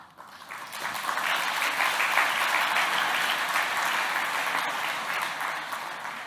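A gala audience at SGTech's 40th anniversary event applauds a speech by Deputy Prime Minister Heng Swee Keat, a full, even wave of clapping that swells quickly and holds steady before easing slightly at the end.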